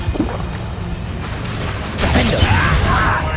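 A Glacius ice spell cast in the Hogwarts Legacy game on PS5 lands as a loud rushing whoosh with crackling, shattering texture that swells midway and stays bright and close until it ends.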